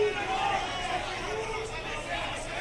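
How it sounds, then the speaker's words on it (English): A crowd at a World Vale-Tudo Championship fight makes a steady roar of cheering and murmuring, with commentary voices running over the noise. "Crowd is into this one."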